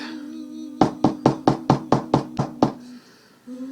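A run of about ten evenly spaced, sharp knocks on a door over a low steady hum, loud and close, followed by quiet.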